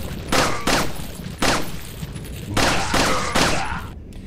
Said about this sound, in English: I just felt like shooting him a little bit.